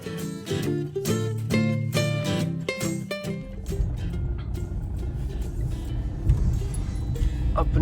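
A car starting up on a cold day, with a short rattle of keys and clicks, then the engine settling into a steady, close, low rumbling hum as the car idles and begins moving off.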